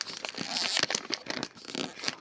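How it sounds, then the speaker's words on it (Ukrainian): A small 400-gram pack of Royal Canin kitten food wrapped in tape is pulled open close up, giving off a run of crinkling, crackling and tearing rustles with sharp irregular snaps and no voices. "Так, ми спочатку відкриємо маленьку пачку."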